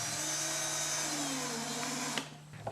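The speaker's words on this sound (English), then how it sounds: "Drill 4 11/64" holes as indicated." Power drill boring 11/64-inch holes into a door jamb, a steady high-pitched motor whine with a slight dip in pitch as the bit bites, stopping abruptly near the end, close and loud.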